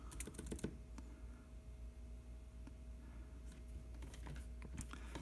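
Steady clatter of typing on a compact Windows keyboard attached to an iPad Pro, quick keystrokes in bursts with a brief pause midway, close up and fairly quiet.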